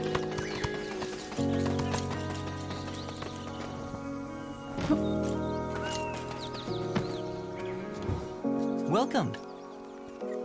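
Horse hooves clip-clop in a steady rhythm, with whinnies and occasional game sound effects over a background music bed.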